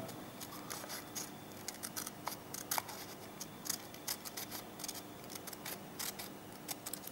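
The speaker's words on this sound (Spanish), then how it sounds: "vamos a recortar la superficie curva que se adopta" Scissors snipping through paper to cut out the curved surface of a cone, a quick series of soft, close clicks and snips, fairly faint, with no voices.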